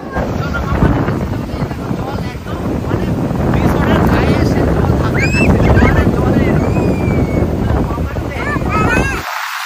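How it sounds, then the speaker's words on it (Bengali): High-tide sea water surging against resort stairs at a beach, a steady loud wash and rush of water with wind buffeting the microphone throughout. "রিসর্টের সিঁড়িতে এসে জল ধাক্কা খাচ্ছে, কি অবস্থা, পুরো জোয়ার রে জোয়ার"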